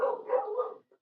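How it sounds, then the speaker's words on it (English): Dogs bark in one sustained, fairly close bark that fades out, with a faint yelp after it, and no one talking. "I think my dogs are going to start barking in a minute."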